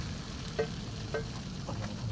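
Water spinach (cah kangkung) being stir-fried in a pan outdoors, a steady low sizzling hiss with a few brief clinks of a utensil stirring, fairly close and alone without voices.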